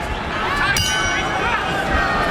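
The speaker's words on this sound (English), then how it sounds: "Bell sounds at the start of the second round." Boxing ring bell at a heavyweight bout signals the start of the second round, a bright ringing clang rising over a loud arena crowd's hubbub and chatter.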